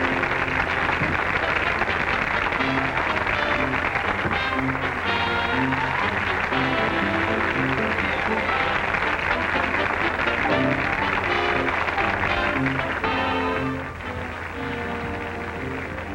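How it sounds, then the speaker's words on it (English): An audience breaks into sustained applause after a stage act in a 1939 comedy. The dense clapping carries on for about fourteen seconds alongside music, then drops off in level near the end. "Listen to that applause, huh?"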